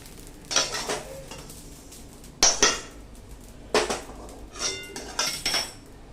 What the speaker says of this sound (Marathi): आता मी गॅस बंद करते आणि हे सगळं एका डिश मध्ये काढून घेते.